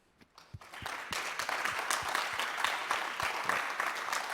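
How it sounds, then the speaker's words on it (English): Audience at an international air quality sensors workshop starts with a few isolated claps that quickly swell into steady, full applause from many hands, continuing evenly to the end. "I ask you to applaud him"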